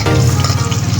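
Food sizzles and crackles while being sautéed in a pan over a steady low hum, loud and close, a short burst with no one talking.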